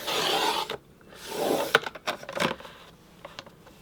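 Scrapbook paper gets trimmed by an inch on a paper trimmer, with a close rasping slide of the blade across the sheet, then a few light taps and scrapes as the paper is handled.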